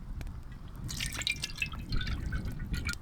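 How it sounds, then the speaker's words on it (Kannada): Cooking oil poured into a pan for Kolhapuri mutton, a close, soft trickling and dripping of liquid lasting a few seconds. "ಅಡಿಗೆ ಎಣ್ಣೆ"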